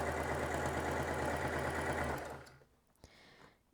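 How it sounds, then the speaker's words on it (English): Sewing machine stitching fabric strips together for a quilt block, a steady fast mechanical whirring run for about two seconds that stops abruptly, followed by a small click. "so you'll just sew them together with 1/4 inch"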